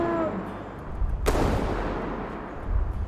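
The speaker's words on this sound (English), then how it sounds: "Well, that was 2 shots, and it's not dead" One deep, booming shot from a .700 Nitro Express rifle in a prehistoric dinosaur-hunting video game cracks loudly and rolls into a long fading rumble over constant game ambience.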